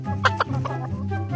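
A chicken in an animal-crossing video game clucks in a short burst of choppy, close calls over a steady low game-music hum.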